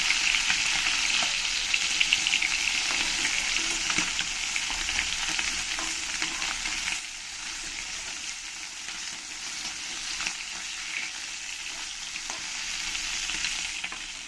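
Fish frying in hot oil in a pan, a continuous dense sizzle with faint crackles and occasional stirring, steady and fairly close, with no talk.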